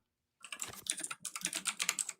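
Rapid keyboard typing clicks in two bursts separated by a brief pause, close and fairly loud, with no voices.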